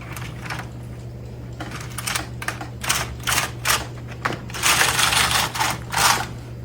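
Hamanaka Needle Knitter hand knitting machine working rows of stitches: repeated rattling clacks of the carriage sliding across the needle bed in uneven bursts, close and clear, no talking.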